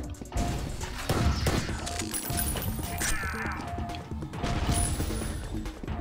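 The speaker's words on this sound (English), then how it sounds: "That's a grenade." A grenade goes off in Ion Fury amid loud clattering game action, with crashing impacts and a thick layer of game noise and music continuing throughout.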